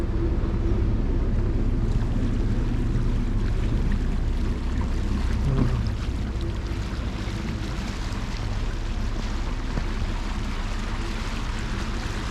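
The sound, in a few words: motor boat cruising along the Caledonian Canal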